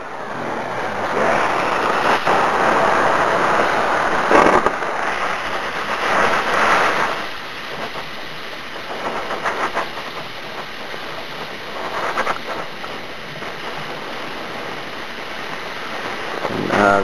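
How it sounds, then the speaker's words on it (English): A 7 lpm HHO torch flame roars steadily while melting a quarter-inch bolt, a loud continuous hissing rush with slight swells and dips throughout, no voices. "about a 7 liter a minute torch flame there. You can hear it."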